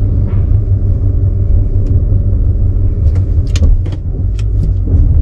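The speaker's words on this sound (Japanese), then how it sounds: "やっぱりブレーキ操作だけで前出ます。" A car without creep edges forward on brake control alone, giving a steady low engine and road rumble from inside the cabin, with a few light clicks and rattles near the end.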